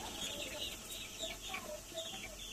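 A young poultry chick, about five days old, is held in the hand for a Gumboro vaccine and gives repeated faint peeps and chirps, with light fowl clucking nearby.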